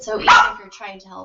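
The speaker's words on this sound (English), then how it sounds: "sorry for the barking dog" A dog barks once loudly nearby and then gives a few softer yips, with a person talking over the sounds.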